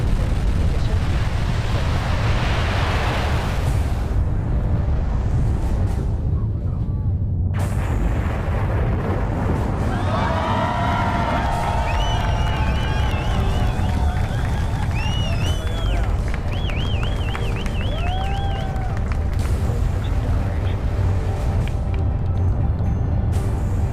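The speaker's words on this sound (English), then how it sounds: "the 9 Merlin engines of the first stage ignite" Distant roar of a rocket's nine Merlin first-stage engines igniting at launch, a steady broad low rumble sustained throughout, with faint chirping birdlike calls and voices in the background.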